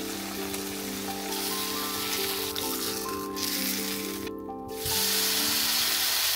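Food sizzling and frying in a pan while a favorite dinner dish cooks, a steady close hiss running throughout with a quieter dip partway through before swelling louder again.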